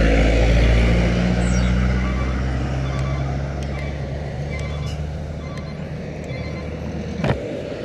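Buses, including a Laksmi bus and a Laju Prima bus, roll through the Sebapo toll gate entrance in Jambi, with a loud engine rumble fading as they pass and a sharp hiss of air brakes near the end.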